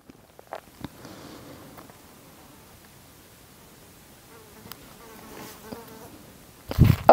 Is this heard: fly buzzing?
yes